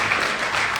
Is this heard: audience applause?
yes